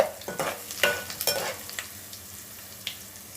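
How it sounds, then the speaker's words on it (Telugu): Mustard seeds, dried red chilli and cumin tempering in hot oil, with sharp crackles and pops bunched in the first second and a half, then a quieter, steady sizzle; close and fairly loud, no voices. "ఇదిగోండి తాలింపు వేగుతుంది కదా"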